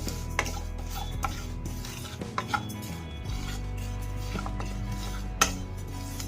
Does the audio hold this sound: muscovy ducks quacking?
no